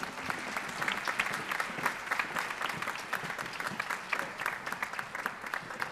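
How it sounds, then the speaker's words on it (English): An audience at a youth recognition awards ceremony applauds steadily for the whole stretch, a dense wash of many hands clapping at moderate loudness with no pauses. "Let's give the Laker Express another round of applause,"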